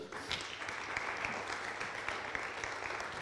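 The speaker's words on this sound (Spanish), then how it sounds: "los invito a despedir a nuestro invitado con un gran aplauso" Audience applause for the departing guest at a science café talk on bioeconomy, a steady even patter of clapping across the whole stretch at moderate level.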